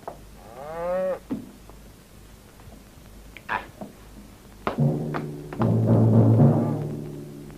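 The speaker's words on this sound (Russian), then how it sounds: "Ага. Одна корова." A cow moos twice, a drawn-out low call first, then a louder, longer bellow near the end, with some shuffling noise between, in a 1963 Soviet comedy short.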